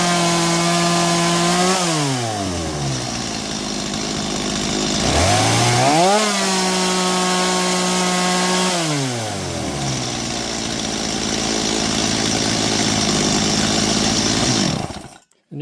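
A Stihl MS230 chainsaw with a runaway throttle and a faulty kill switch runs loud and close, its engine revving high, dropping briefly to a lower pitch three times, then climbing again before cutting off abruptly at the end.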